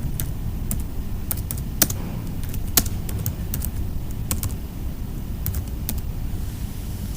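Keys clatter on a computer keyboard in quick irregular bursts of taps, a few sharper clicks standing out over a steady low background hum, with no one speaking.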